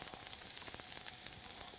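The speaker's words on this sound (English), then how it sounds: "You want that sizzle." Onions sizzle in a hot frying pan as a chef cooks healthy soul food, a steady bright hiss of frying that runs alone and fairly faint for under two seconds.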